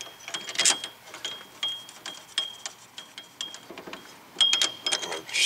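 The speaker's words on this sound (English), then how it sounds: "now we can go ahead and put the two remaining bolts back in." Bolts threaded back in by hand on the rear brake of a 2005 Lexus ES330, with a quiet run of light metallic clicks and ratcheting ticks close by, some sharper squeaky taps, no talk.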